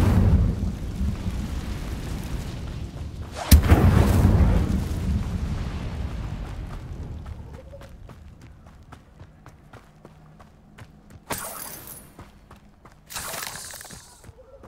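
A fire spell erupts in the video game Hogwarts Legacy, a loud whooshing burst with rumbling, crackling flames that slowly fade into quieter game ambience and later short sharp flares.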